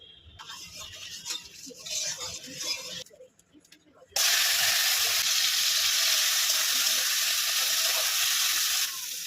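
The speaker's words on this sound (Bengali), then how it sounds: "অল্প তেল দিয়ে দিলাম, আগে চিংড়ি মাছটা ভেজে নেব।" Prawns frying in a little mustard oil in a pan, first a quieter crackle, then a sudden loud, sustained hiss as they hit the hot oil and keep sizzling steadily.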